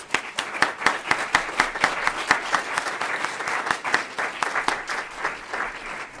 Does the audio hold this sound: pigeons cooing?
no